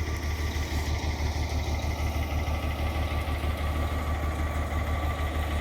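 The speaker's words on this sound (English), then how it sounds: "Turn the carriage off so you don't hear that chugging away over while I'm talking." An engine idles close by in a steady low chugging rumble that holds evenly throughout without change.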